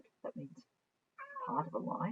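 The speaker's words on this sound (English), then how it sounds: "oh, you can hear my cat meowing in the background" A pet cat meows in the background, one short call and then a longer drawn-out meow, while a person speaks nearby during a geometry lesson.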